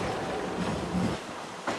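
Railroad train on the Magic Kingdom line rolling along its track, a steady close rumble of wheels and cars with a brief clatter near the end, no voices.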